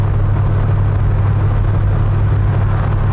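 A 1973 Chevrolet C10 pickup with an LS engine swap drives along in lockup, its engine a loud, steady low rumble heard from inside the cab with no talk.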